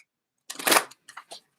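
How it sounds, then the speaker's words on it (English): A deck of playing cards being shuffled by hand at close range: one brisk riffle burst followed by two short, soft flicks, with no talking. "Should we stop shuffling these? Did we shuffle these enough?"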